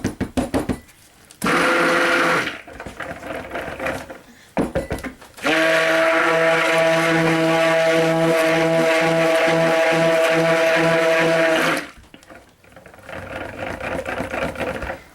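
A handheld stick blender whirs through warm soap batter in two long runs separated by quiet gaps, the second lasting about six seconds; the motor drones steadily, close and loud, with no voices.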